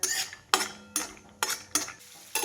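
Almonds being lightly roasted in ghee for a cake give a run of sharp, evenly spaced scraping clicks from a spoon against the pan, each followed by a brief soft sizzle.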